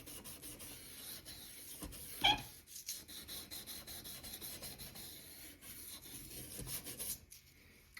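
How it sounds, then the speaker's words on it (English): Rhythmic back-and-forth rubbing of sandpaper against the metal rails of American Flyer S gauge model train track, soft and steady, with one brief sharp squeak partway through. "The sanding portion is done."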